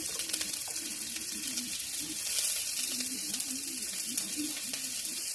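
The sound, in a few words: onion frying in a kadai (wok)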